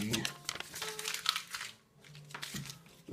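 Crinkling and crumpling of packaging being pulled open around a trade paperback book, a few bursts of rustle with brief pauses, close to the mic, with a low voice murmuring underneath.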